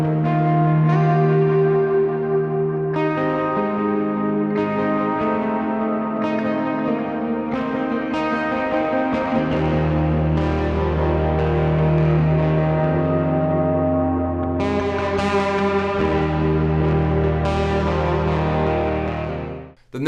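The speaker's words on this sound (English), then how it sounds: "This first tone is the first sound you heard in the song. It's got a little bit of overdrive to it and a lot of reverb." An electric guitar recorded direct without an amp, with a little overdrive and lots of reverb, rings out sustained notes and chords that bloom and overlap in a long, washy tail before cutting off.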